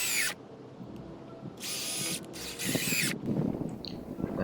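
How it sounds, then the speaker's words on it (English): A power drill drives screws into 2x6 boards for a multi-level raised garden bed, running in three loud high-pitched bursts with short pauses between, close and alone. "Drill it in."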